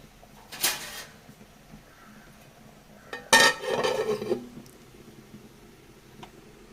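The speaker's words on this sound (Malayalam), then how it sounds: "ഇനി നമുക്ക് നല്ലോണം ഒന്ന് ഇളക്കി കൊടുക്കുക എന്നിട്ട് മൂടി വെച്ചൊന്ന് ലോ ഫ്ലെയിമിൽ വെച്ച് കൊടുക്കുക" Jackfruit seed curry being stirred in a pot in a home kitchen, with two separate bursts of scraping and clattering, the second longer and busier, amid a quiet background.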